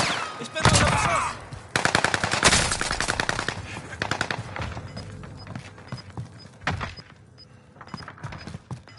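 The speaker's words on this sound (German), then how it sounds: "Ich bin unter Beschuss." Machine gun fire in Call of Duty Warzone Pacific, sharp bursts of rapid shots in clusters, some loud and near, others fainter and more scattered, with faint game effects between.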